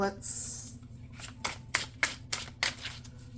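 A tarot card deck handled and shuffled close by, with a series of crisp riffling bursts and soft card flicks over a low steady hum.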